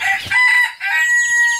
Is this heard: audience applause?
no